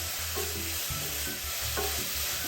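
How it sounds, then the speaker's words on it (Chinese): Coconut filling is stir-fried briskly on high heat, a spatula scraping and stirring in rhythmic strokes over a steady sizzle, close by with no talking. "炉转至高火，再将椰丝内馅快炒"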